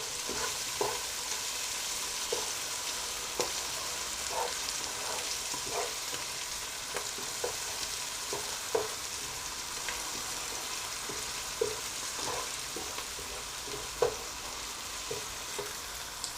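Green chillies frying in hot oil for daal mash, a steady close sizzling hiss with scattered small pops and spatters throughout, no voices.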